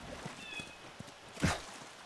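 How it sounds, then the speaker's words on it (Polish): A single short cat meow rises out of quiet ambience in the video game The Last of Us Remastered, preceded by faint soft taps and a thin whistle-like tone. "Co to, jakiegoś kota słychać?"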